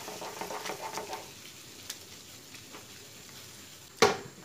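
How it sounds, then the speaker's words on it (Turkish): Cream being stirred quickly into a Snickers pasta sauce with butter in a pan, a soft steady sizzle with light stirring scrapes and a sharp clack of the utensil near the end, close and without talk. "1 kutu krema ilave edip hızlı bir şekilde karıştırıyoruz"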